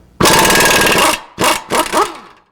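An impact gun hammers at a bolt on the wheel hub of a 1998 Nissan Maxima during a hub and bearing replacement, first in one loud sustained burst of about a second, then two shorter rattling bursts close up.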